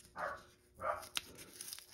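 A puppy barks outdoors: two faint, distant yaps a half-second apart over a low background hiss.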